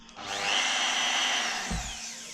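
A wood router whines at a high, steady pitch, spinning up quickly and cutting with a smooth, loud whir and a brief low thump near the end.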